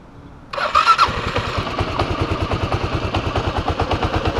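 A motorcycle engine starts up during riding practice, catching with a sharp burst and then settling into a loud, close, pulsing idle that throbs evenly to the end.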